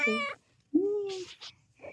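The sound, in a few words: cat meowing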